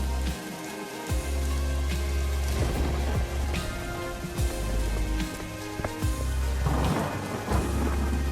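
Heavy rain pours steadily in a cartoon storm while several loud thunder cracks and rumbles break through, one deep boom at the start and more bursts near the end.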